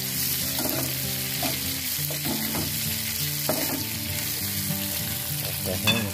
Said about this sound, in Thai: ผัดให้แห้งสักนิดนึง